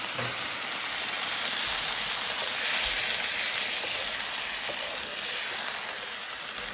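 Chopped tomatoes sizzling in a hot pan, a steady, dense frying hiss that stays even and close throughout with no talking.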